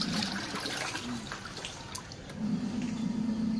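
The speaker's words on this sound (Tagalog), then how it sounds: "Sinyo, nagwawala yung tubig." Water churns and splashes steadily, stirred by a spinning boat propeller that is turning slowly, with a dense wash of noise and a faint low hum running through.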